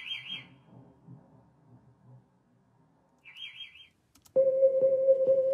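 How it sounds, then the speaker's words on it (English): A bird chirp sample plays as a short warbling tweet twice, separated by a low murmur, then gives way to a sustained tonal musical chord that continues to the end. "I went to Splice and found this bird one shot"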